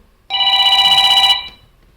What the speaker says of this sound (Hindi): साहब फोन बज गया।